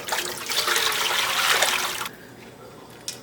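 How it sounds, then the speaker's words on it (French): Water poured into a cooking pot while making Guinean tô with dried okra sauce, a loud splashing gush for about two seconds that stops abruptly, leaving quiet room tone with one small clink. "Je veux couvrir ma marmite d'eau."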